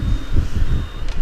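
A truck passes close by on the road during a ride on a Yamaha Callisto 125 scooter, its low engine rumble steady throughout with a brief reversing-style beep near the end.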